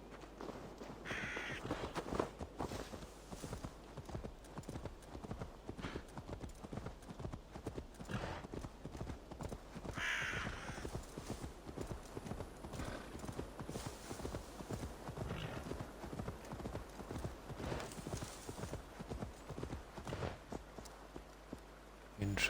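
Horse hooves clip-clop at a steady walking rhythm in the video game Assassin's Creed Valhalla, continuous throughout, with crows cawing in the background and a player talking occasionally over it.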